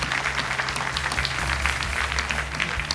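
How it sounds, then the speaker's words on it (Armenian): Audience applause for an act at a talent show gala, a dense steady patter of many hands clapping from a crowd, even and sustained for a few seconds without speech. "Առանձնահատուկ ծափել"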